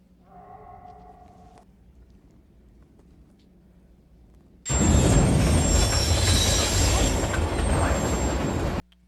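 Train passing in the 2003 film Underworld: after a quiet stretch, a loud rushing, rumbling roar with a high metallic squeal cuts in abruptly and holds for about four seconds before stopping dead.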